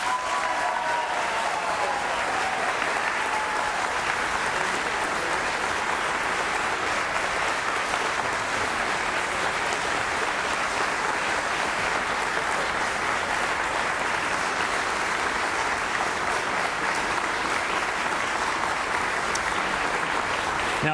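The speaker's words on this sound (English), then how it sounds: "Now to our studio audience, your opportunity to applaud the candidates" Studio audience applauding the candidates after a televised gubernatorial debate, a continuous even wash of clapping that holds steady at full level throughout.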